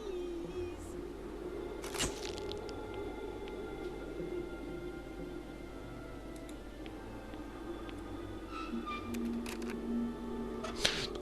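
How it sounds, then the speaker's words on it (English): In the adventure game Deponia Doomsday, a camera shutter gives a sharp mechanical click, then a second click near the end, over a quiet hum of steady background tones. "Just press the shutter button."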